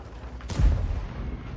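A single deep, muffled tank cannon boom in a video game, with a low rumbling tail, fairly faint against a quiet background hum.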